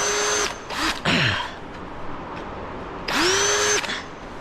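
A power drill whirs in several short bursts, spinning up and down, with a pause of quiet between the last two runs.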